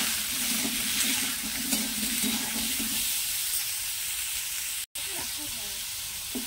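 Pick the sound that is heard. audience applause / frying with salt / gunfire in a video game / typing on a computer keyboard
frying with salt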